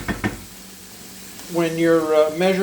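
Onions sautéing in a pan give a soft, steady sizzle, faint at first and then continuing beneath a voice that talks over the second half.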